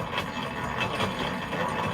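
A yarn swift and ball winder spin in a work room, giving a steady whirring, ratcheting mechanical rattle with a gentle rhythmic pulse, close and continuous.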